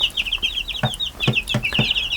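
Chicks peep in quick, high, repeated chirps close by, mixed with a few soft low clucks from farm poultry, with no talk.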